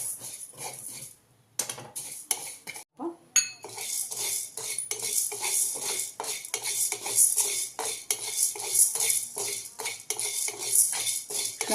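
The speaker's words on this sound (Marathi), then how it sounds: "मूग डाळ आपली भाजलेली आहे, तर ती मी सर्वप्रथम काढून घेते." Roasted moong dal is scraped and spooned out of a metal pan in a run of rapid, uneven clinks and scrapes, with a brief pause early on.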